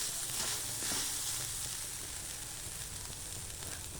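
Grated coconut sautéing in a pan with tomato and salt, giving a steady, close hiss and crackle that runs unbroken throughout.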